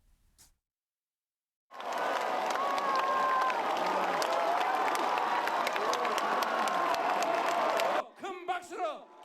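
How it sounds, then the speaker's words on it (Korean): A large crowd at a presidential election campaign rally in South Korea bursts into loud, sustained applause and cheering with whoops, continuing steadily for several seconds before dropping off as a voice starts to speak. "큰 박수로 격려해 주시기 바랍니다."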